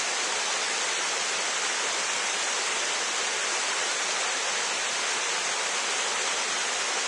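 Flat Creek roars steadily as its water pours over shallow ripples below a creek house on a snowy morning, a dense, even rush filling the whole clip with no voices.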